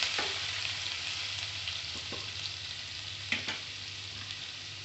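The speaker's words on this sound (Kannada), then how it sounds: "ಅದಕ್ಕೆ ಬೆಳ್ಳುಳ್ಳಿ, ಶುಂಠಿ ಹಾಕಿ ಸ್ವಲ್ಪ ಕೆಂಪಗಾಗೋ ತನಕ ಹುರ್ಕೋಬೇಕು" Garlic and ginger fry in hot oil for dal fry, a constant bright sizzle with a few soft clicks of stirring against the pan, close and unbroken.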